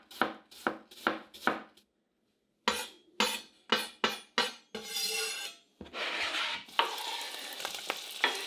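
Apple slices fry in a pan, with a few sharp knife taps at first, then bursts of sizzling and scraping as they are stirred, close and without speech.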